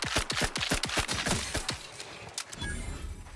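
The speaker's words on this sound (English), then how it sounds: "This gun's definitely shooting a lot quicker" A gun in The Outer Worlds 2 fires rapidly, a close burst of about a dozen sharp evenly spaced shots that then tails off into fading echoes and ambient game noise.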